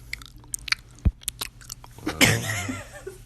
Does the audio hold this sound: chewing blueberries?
yes